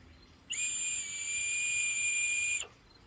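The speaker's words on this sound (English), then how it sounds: "It's a whistle." A shrill, steady whistle blown once on a hundred-year-old terracotta Cracker Jack prize whistle, holding a bright high tone for about two seconds before stopping abruptly.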